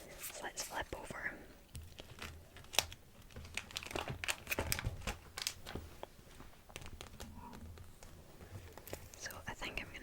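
Plastic sleeves of a Pokémon card binder crinkle and rustle as pages turn, with soft crackles and taps scattered under a close, quiet whisper.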